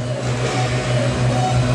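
A motocross bike in a stunt show lap on a wet track, its engine holding a loud, steady drone with slight rises, like revving continuously close by without pause.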